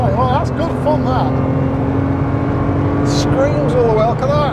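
Renault Clio V6 255 Phase 2 engine revving hard, a steady loud drone with rising and falling pitch sweeps as it pulls through the gears, close and continuous throughout.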